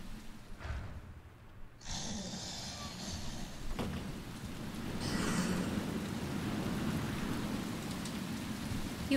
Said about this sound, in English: the sound from the rain would hide your footsteps or something